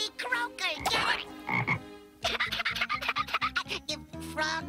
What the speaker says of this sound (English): If frogs are green and they croak.